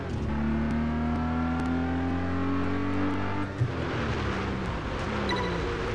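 Car engine in the Test Drive Unlimited 2 driving game revving at high pitch with a steady climbing drone, then easing off partway through as the tone drops and a brief knock is heard, loud and alone.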